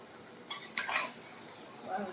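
Curry stirred in a pan, with a short spoon scrape and clink over a faint simmering sizzle, heard alone and close.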